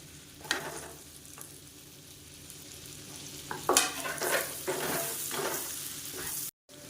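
Chopped onions and cumin sizzle steadily as they fry in butter in a pan, with occasional stirring scrapes and louder bursts of crackle midway, heard alone without talk.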